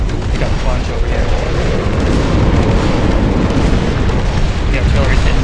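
Artillery explosions in the real-time strategy game Dust Front, a dense continuous roar of overlapping booms and blasts that stays loud and unbroken throughout.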